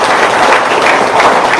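A short, loud burst of dense clapping from an audience at a talk or seminar, a continuous wash of hands with no speech over it.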